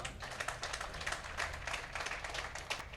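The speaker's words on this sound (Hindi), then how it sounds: "तालियां बजाओ भैया" Audience applause at a mushaira poetry gathering in Gorakhpur, a dense, steady patter of many hands clapping, moderately distant and continuing throughout without any voices.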